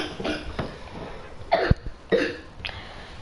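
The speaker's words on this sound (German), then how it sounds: "der hat halt Husten und ist krank" A sick brother coughs in the background of a Fortnite livestream: several short, muffled cough bursts come at irregular intervals, fairly distant and soft, with no talk over them.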